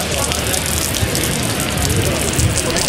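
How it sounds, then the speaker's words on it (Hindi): Rain falls steadily on an agricultural university campus, a loud, even patter and hiss that fills the whole moment without pause. "और ये बारिश के कतरे बहुत खूबसूरत"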